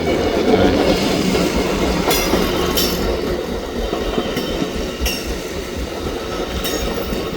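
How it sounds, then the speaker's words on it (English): An Amtrak passenger train rolls past close by near Crescent Beach, a steady rumble with repeated clickety-clack of wheels over rail joints. "Let's see if I got it right. If it's the Amtrak."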